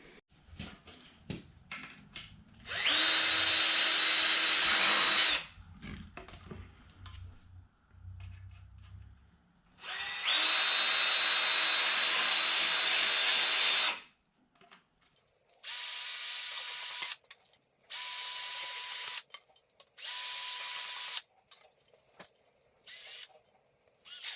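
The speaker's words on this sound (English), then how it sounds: "I'm gonna pre-drill all these holes for the rivets quick with the drill" A power drill whirs in several bursts pre-drilling rivet holes on a Bass Tracker boat, two long runs followed by shorter high-pitched spins, with quiet handling clatter between them.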